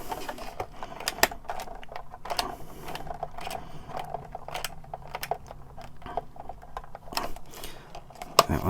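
A small screw being tightened on a DeAgostini R2D2 model, heard as rapid, fine ratcheting clicks and light tapping that run steadily and close up, with only a faint background hum.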